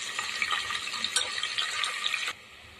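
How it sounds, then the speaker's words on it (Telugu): Onions and green chillies fry in a pan, giving a bright steady sizzle with light crackles and stirring clatter, close up, which cuts off abruptly near the end. "ఉల్లిపాయలు, పచ్చిమిరకాయలు కొంచెం బాగా ఎర్రగా వేగనివ్వాలి"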